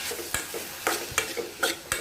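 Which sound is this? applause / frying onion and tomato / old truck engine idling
frying onion and tomato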